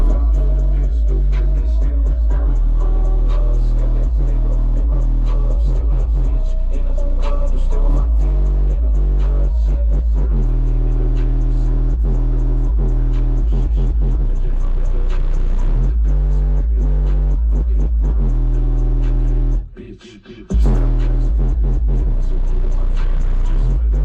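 Heavy subwoofer bass from a single-box car audio setup driven by a Black Brick Powerhouse amplifier, a loud, sustained booming low thump pulsing steadily throughout with one brief dropout near the end.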